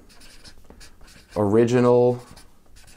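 Faint scratchy strokes of writing on a board tick along in the background, with a voice speaking over them midway through.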